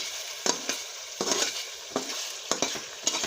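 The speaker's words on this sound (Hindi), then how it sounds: "अब हम इसको 10 से 15 मिनट मज़ीद इसको भूनेंगे।" Ginger egg curry masala sizzles and fries in ghee with a steady crackle, while a spoon stirs the pot in repeated scraping strokes, close and clear with no talk.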